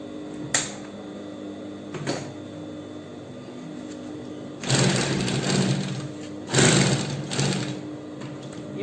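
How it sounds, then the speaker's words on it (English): A sewing machine runs straight seams on Ankara fabric for a backpack, starting with brief taps, then two loud sustained bursts of rapid stitching with a pause between them. "I'm just going to start sewing straight."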